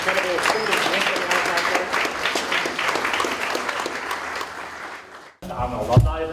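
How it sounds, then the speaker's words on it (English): An audience at a school robotics reveal event applauds with a dense, steady burst of clapping that fades out, followed by a voice speaking once the clapping ends. "can we please give a big round of applause"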